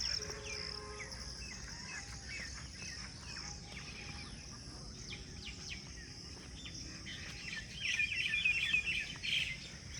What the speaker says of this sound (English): You can also hear sounds of the bird, different sounds.